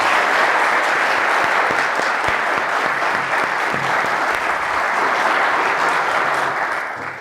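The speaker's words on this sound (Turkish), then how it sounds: "Bir alkışla bitirelim isterseniz." Audience applause closes a university talk at Melikşah University, a dense, steady wash of many hands clapping close by that holds evenly for several seconds before tapering slightly at the end.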